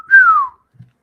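A voice imitates a kid whistling back from a distance: a single clear whistled note that slides gently downward for about half a second, followed by a faint low murmur.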